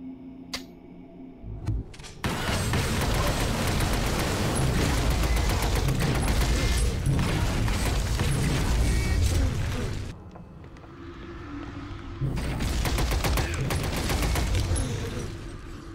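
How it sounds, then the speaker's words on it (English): A deployed turret fires at enemies in the XCOM 2011 demo, a long, loud, dense stretch of rapid mechanical shots that breaks off briefly, then resumes with another sustained barrage. "He wants to drop that turret down right now and give them a taste of their own medicine."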